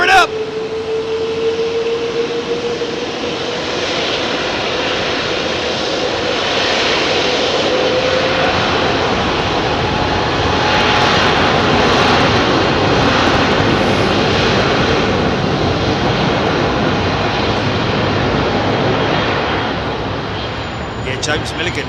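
Airliner jet engines spool up for a 27R departure at London Heathrow, a loud, close, broad roar building and holding with a rising whine; a voice speaks over it.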